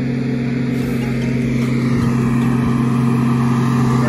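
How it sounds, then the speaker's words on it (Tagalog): A farm wagon ride vehicle at an apple-picking farm drones steadily with its engine, a close, constant low hum with a strong tonal throb that holds even throughout, with no talk over it. "Yan po ang wagon. Sasakyan namin."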